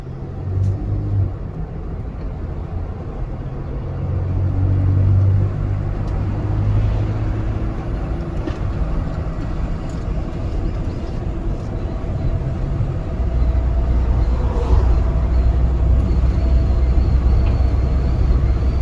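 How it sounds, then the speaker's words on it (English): Car driving along a road, a steady low engine rumble and road noise from inside the cabin, with small rises in engine pitch and no talk. "We are driving."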